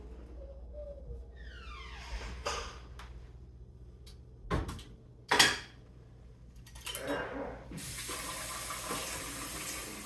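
Water from boiled rice noodles poured off and drained in a kitchen, faint sloshing and a few clanks of a pot, ending in a steady hiss of running water.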